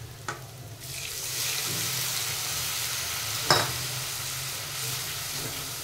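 Masala fries with browned onion in a pan, giving a soft, steady sizzle close by. A few sharp clinks of a spoon against the pan break in near the start and midway, and no one speaks.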